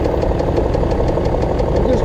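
BMW X5 E53 engine with a knock that appeared after work on it, idling with a regular, rapid tapping beat over a loud, steady low rumble, recorded up close.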